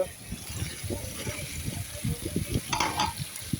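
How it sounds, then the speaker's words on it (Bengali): Meat being stirred into spiced potatoes in a pan gives a steady, close sizzle, with repeated scraping and stirring strokes and a few brief brighter clinks near the end. "মাংসটাকেও খুব ভালোভাবে নাড়াচাড়া করতে হবে"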